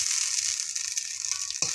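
Ginger paste sizzles steadily in a pan of frying onion and garlic for an egg curry, a bright continuous crackle with a single sharp clunk of a utensil near the end.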